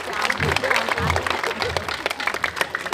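An audience at a Balinese temple gathering applauds in scattered, uneven claps that swell and thin, fairly close, with some speech and crowd murmur underneath.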